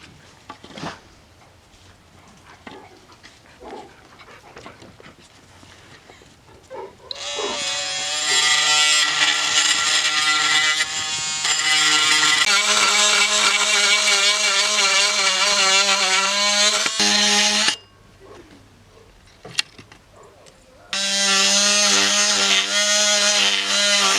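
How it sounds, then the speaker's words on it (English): A power tool cuts out the handle of a bow from a wooden board, whining loud and steady in two long bursts with a short pause between, after quiet handling noises at the start. "we're gonna start cutting out the handle and cutting out the rest"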